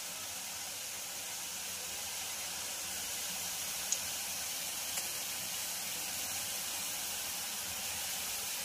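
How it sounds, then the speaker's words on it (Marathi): Boondi drops of gram flour batter frying in hot oil, heard as a faint, even, continuous fizzing hiss with one tiny click partway through. "अशाच प्रकारे आपण सगळी बुंदी तळून घेऊया।"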